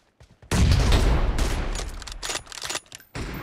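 Rapid gunfire from a team-based video game shooter, a dense loud burst of overlapping shots and booms that rattles on for about two and a half seconds after a quiet start, then breaks off before resuming briefly.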